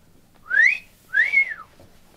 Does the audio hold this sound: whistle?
yes